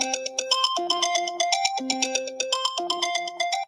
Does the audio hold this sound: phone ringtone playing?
yes